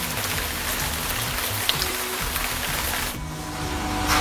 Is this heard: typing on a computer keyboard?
no